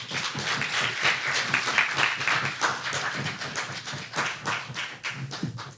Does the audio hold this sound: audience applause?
yes